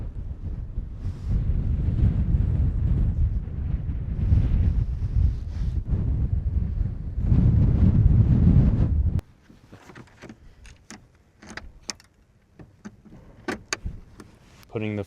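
Strong wind gusting across a frozen lake at sunset, roaring loudly against the microphone for several seconds, then dropping away abruptly to quiet scattered clicks and faint rustling.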